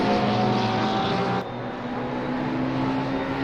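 Porsche GT3 race car at Barcelona during a Caribbean GT3 Championship round, its tyres shredding rubber, heard as a loud steady engine roar with a tonal drone that drops slightly partway through.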